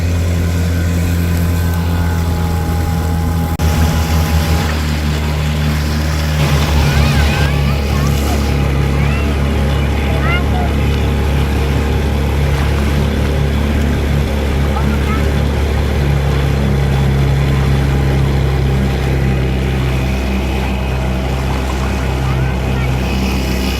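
A 1960 Johnson 5.5 HP outboard motor runs steadily on a boat in choppy water, a loud continuous engine drone that shifts as the throttle changes, with a voice talking over it.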